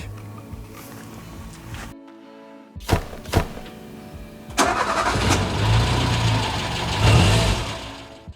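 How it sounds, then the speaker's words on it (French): A Renault 4L engine cranks over after a few clunks, catches, and settles into a steady running rumble close by after a bent exhaust repair, briefly revving louder near the end. "On va faire un petit test moteur allumé."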